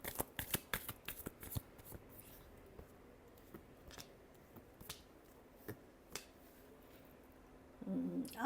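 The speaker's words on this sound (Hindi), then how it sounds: "Last shuffle." Tarot cards are shuffled close up in quick, crisp riffling flicks and taps, a dense run of sharp clicks that thins out, then returns briefly near the end.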